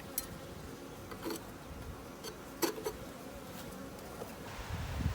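Bees buzz faintly around Slovenian AZ hives in a Hawaiian garden, a soft steady drone with a few brief, closer passes and light ticking noises, no voices.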